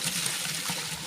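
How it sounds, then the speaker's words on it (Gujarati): Water runs steadily through a channel in a farm field, a continuous close rush and trickle with no voices, heard over one short stretch. "પાણી ચાલે છે।"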